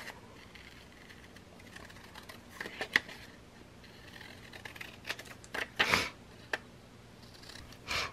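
Scissors snip through paper in a few short, faint cuts, scattered irregularly over a quiet room tone, with small rustles between the snips.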